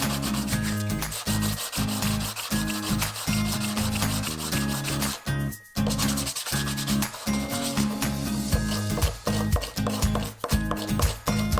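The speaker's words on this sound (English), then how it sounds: "we just rough them up with some sandpaper" Sandpaper rubs by hand over surfboard leash plugs, a close, steady back-and-forth scratching with rhythmic strokes and one short pause midway.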